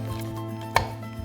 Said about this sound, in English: now we're gonna add the shea butter, and you're gonna cut off a big piece of it